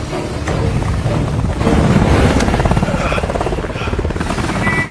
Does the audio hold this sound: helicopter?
yes